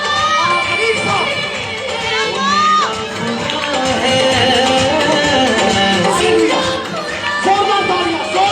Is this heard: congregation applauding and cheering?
yes